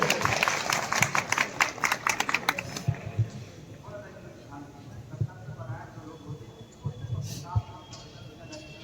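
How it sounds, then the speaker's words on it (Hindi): Applause from the crowd at a Republic Day program at the district hospital in Moradabad: about three seconds of brisk, dense clapping that quickly thins out and gives way to someone speaking in a hall. "लेकिन तालियां आप लोग जोरदार नहीं बजा रहे।"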